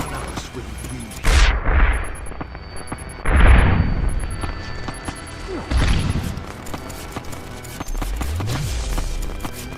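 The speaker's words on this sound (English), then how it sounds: "2 more frag grenades." Frag grenade explosions in Deus Ex, three loud booming blasts a couple of seconds apart, each with a rumbling decay, over a backdrop of game ambience.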